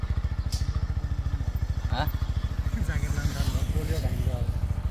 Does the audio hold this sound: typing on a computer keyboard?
no